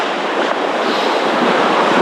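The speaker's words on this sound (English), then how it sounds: "I waded straight into the icy river." Rushing icy river water in the Arctic, with cold rain falling, makes a dense, loud, steady wash that fills the whole moment with no voices.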